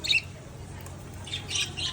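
Pet birds squawk nearby in short, harsh, loud bursts, one at the start and a cluster of overlapping calls toward the end, with a quiet background hum between them.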